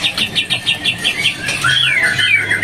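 A masteran songbird sings loudly and close, a rapid series of rhythmic chirping bursts giving way to sweeping whistled phrases, with a faint low engine hum beneath.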